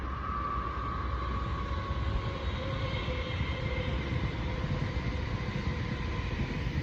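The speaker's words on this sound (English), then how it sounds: "We've got a train coming that we're probably going to see in a second." A train passes on nearby railway lines, a loud, steady rumbling roar with faint metallic squeal tones, heard outdoors and continuous throughout.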